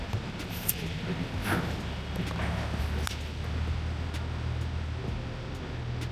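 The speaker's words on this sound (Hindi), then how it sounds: "कि एक मॉल की पार्किंग में ऐसी आवाज़ आती है" Ambient noise in a mall parking lot: a steady low rumble and hiss with faint distant clicks and scattered soft knocks, continuous and fairly quiet, with no clear talk.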